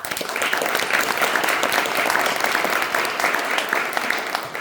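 Dense, steady applause fills a room at a press conference for Rhode Island victim service organizations, a crowd clapping continuously at even loudness throughout.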